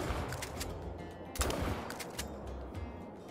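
Shots from a Couso 16ga shotgun fired at a rock ptarmigan in the hunting game Call of the Wild, with several loud, sharp blasts spaced apart and ringing tails between them.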